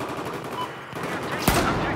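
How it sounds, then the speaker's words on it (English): Automatic gunfire in Battlefield 4's Operation Locker conquest map rattles in rapid bursts, with a sharp, louder shot or explosion near the end over a dense background of game noise. "Who is shooting over here?"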